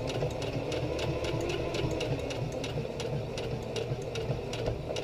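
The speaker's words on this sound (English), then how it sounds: "Keep your hands away from the sewing needle, but still guide it through." A sewing machine stitches fabric for a face mask or medical gown, running at a steady, fast mechanical chatter close by for the whole stretch, with a rhythmic rattle throughout and no talking.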